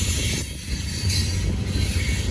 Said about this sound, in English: With a train this heavy, that's how they're gonna run them.